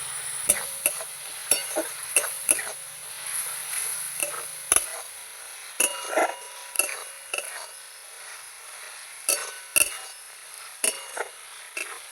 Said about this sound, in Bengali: মশলাগুলো এবার ভালো করে পেঁয়াজের সঙ্গে নাড়াচাড়া করে একটু কষিয়ে নেব